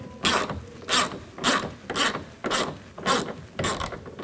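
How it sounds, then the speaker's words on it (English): A 10mm socket on a ratchet loosens a window regulator bolt inside a car door, giving a steady series of about seven rasping ratchet strokes in an even rhythm, close and clear. "use a 10mm socket, loosen that bolt up"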